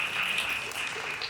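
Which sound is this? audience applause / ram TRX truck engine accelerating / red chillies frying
audience applause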